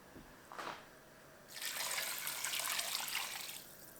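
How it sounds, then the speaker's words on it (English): Water and vegetable broth pour into a soup pot, first a short splash, then a steady, fairly loud stream for about two seconds that trails off. No voices are heard. "And then we're gonna add 2 cups of water and then about 4 cups of veggie broth."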